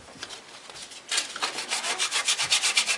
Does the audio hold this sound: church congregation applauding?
no